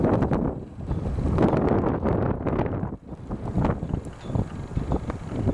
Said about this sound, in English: That is a north wind.